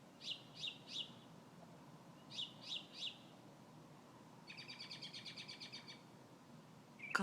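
A lone bird calling at 2:30 in the morning: two sets of three quick bright chirps, then a faster rattling trill, over faint quiet night background with a small bump at the end.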